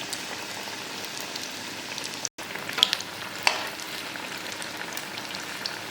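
Onion bajji fritters deep-fry in hot oil in a tea-shop style, a steady close bubbling crackle with a brief cut and a couple of sharp pops partway through; no voices.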